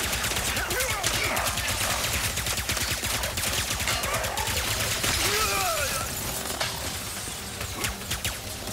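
Rapid gunfire from a flash pistol in Ratchet & Clank: Rift Apart, a dense run of sharp, close shots layered over busy game effects and background music, with occasional chirpy sci-fi sounds.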